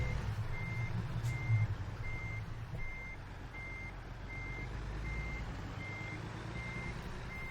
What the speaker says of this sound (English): we were successful here in backing in this very heavy army truck